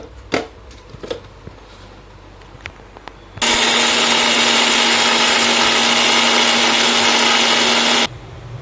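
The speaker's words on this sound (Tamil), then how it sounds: "அதை வந்து மிக்சி ஜாருக்கு மாற்றியாச்சு இப்போ வந்து நம்ம இதை வந்து அரைச்சிக்கலாம்" Mixer grinder jar blending roasted peanuts and spices into a powder, a loud steady whirring roar lasting about five seconds after some clattering handling noise, then cutting off abruptly.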